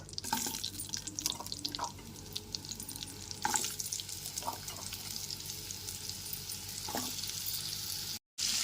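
Cut pumpkin pieces fry in a pan on a low gas flame for a spice-free vegetarian potato and pumpkin curry, a steady crackling sizzle dotted with scattered stirring scrapes and drips.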